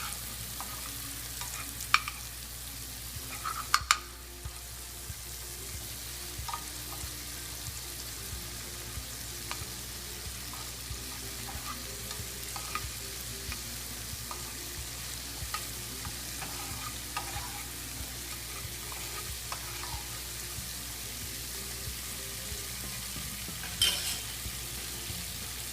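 Quail eggs frying in a pan, a steady close sizzle throughout with scattered spoon stirs and a few sharp clinks against the pan.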